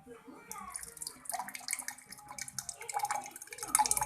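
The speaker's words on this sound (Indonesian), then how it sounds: "Langkah yang pertama kita lakukan ialah memasukkan air" Water poured into a glass, filling it about a third full, for a chemistry lab test of compound polarity; a steady close splashing trickle, fairly faint, heard alone.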